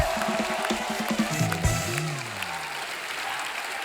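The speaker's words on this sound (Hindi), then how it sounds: "जोरदार तालियां रणबीर और अनुभव बस्सी के लिए" Loud studio audience applause fills the room as a steady, dense wash of clapping for the guests Ranbir and Anubhav Bassi on a comedy talk show.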